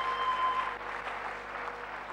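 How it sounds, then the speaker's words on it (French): A church congregation claps and cheers for the Lord in a steady, moderately distant burst of applause that carries on for a couple of seconds. "On peut acclamer le Seigneur"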